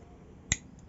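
A single sharp, bright click from a Paper EDC folding knife, close and crisp, standing alone against near silence.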